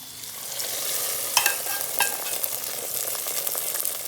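Hot oil sizzles steadily at close range as cashews and raisins fry for rava payasam, with a few light scrapes and clicks of stirring, and no voices.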